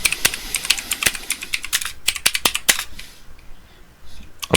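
Fingers tap quickly on a computer keyboard, a close, irregular run of sharp key clicks that thins out and slows toward the end, with no talking.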